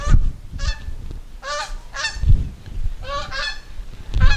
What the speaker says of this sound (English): the flock of geese flying over